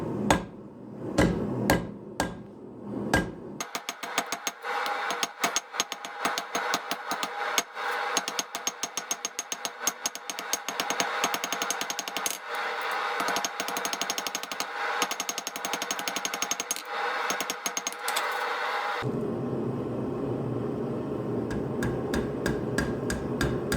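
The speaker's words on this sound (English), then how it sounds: "Let's quickly put that taper in." A blacksmith hammers a taper onto hot steel for forging knife-making tongs, with a few isolated clangs followed by a long, rapid run of ringing blows, probably a power hammer, that stops abruptly before a few final strikes.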